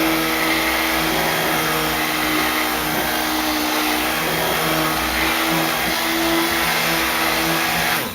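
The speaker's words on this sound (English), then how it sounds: "then we're going to buzz it. And my buzzer is loud, guys, so don't mind it." A loud stick blender whirs through cold process soap batter in a bowl, with a steady motor whine held close and unbroken for several seconds, alone without speech.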